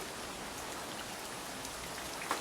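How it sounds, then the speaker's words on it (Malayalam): Heavy rain pours down in a dense, even hiss that continues without a break. "പുറത്ത് നല്ല മഴ ആയതുകൊണ്ടാണ്"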